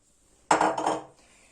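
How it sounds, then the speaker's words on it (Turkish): A metal cooking pot is handled on a kitchen counter while beans are cooked, giving a short clattering burst of metallic clinks and knocks at close range. No one talks. "Şöyle şu şekilde tencere kullanacağım."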